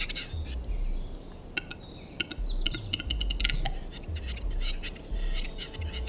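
Male black grouse (heathercock) calling in a Bulgarian forest, with repeated bubbling, cooing love-song phrases and sharp chirps carrying steadily over a low rumbling background for several seconds.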